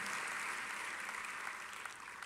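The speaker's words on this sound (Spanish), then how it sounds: "Démosle un aplauso fuerte al Señor de la gloria" A church congregation applauds in a continuous wash of clapping, dense and sustained, fairly distant and quiet, with no speech rising above it.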